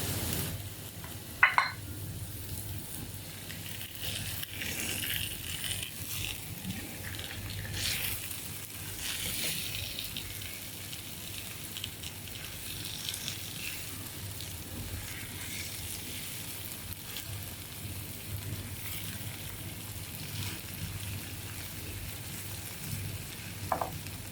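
Eggplant frying in a pan for begun bhaji makes a long, low, steady sizzle with occasional faint clinks and scrapes of stirring.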